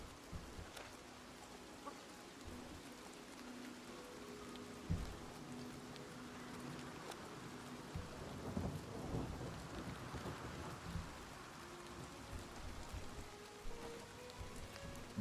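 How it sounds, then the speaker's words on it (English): Gentle in-game thunderstorm from Oblivion Remastered, steady rain pattering on surfaces with low rolling thunder swelling through, soft background music underneath, no talking. "Gentle thunderstorm and Oblivion music ASMR."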